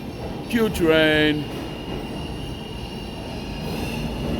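A New York subway Q train of R46 cars rumbles by at moderate distance while a brief voice and tonal chime sound early on, then the steady rolling noise continues.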